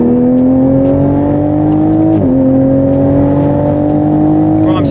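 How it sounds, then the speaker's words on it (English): A JB4-tuned Toyota Supra pulls hard in third gear, the engine roaring loud and rising in pitch from inside the cabin, with a quick dip at a brief shift before climbing again. "Third gear pull, ready? Third gear pull."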